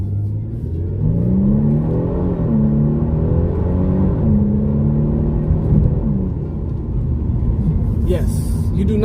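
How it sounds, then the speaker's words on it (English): A 2022 Genesis G70 Launch Edition accelerates at full throttle, its engine note climbing and holding steady as rpm rise, loud and continuous from the cabin, with no exhaust pops at the top of the rev range. "I'm noticing you do not get the pops when you're full on throttle at the top of the rev range"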